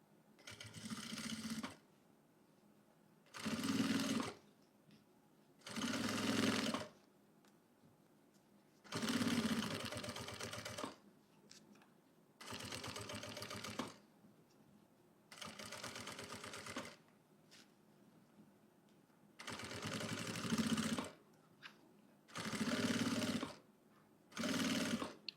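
Sewing machine topstitching fabric on a health-booklet cover, using a magnetic seam guide, runs in about ten close bursts of steady whirring stitching lasting one to three seconds each, separated by short near-silent pauses.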